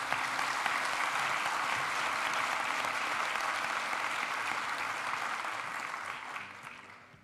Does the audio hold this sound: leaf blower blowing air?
no